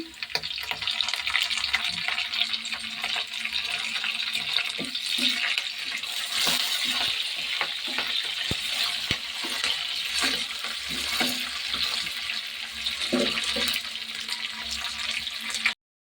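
Onions and curry leaves fry in a pan, giving a steady, dense sizzle throughout with a few light clinks and a brief watery splash, close by and with no one talking.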